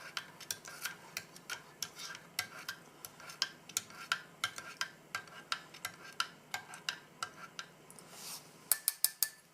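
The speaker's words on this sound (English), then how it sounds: "we'll employ the ubiquitous MRE spoon to give that a stir" Sugar stirred into tea with an MRE spoon, a rapid steady series of bright metallic clinks against the cup, close and clear, ending in a few quicker taps.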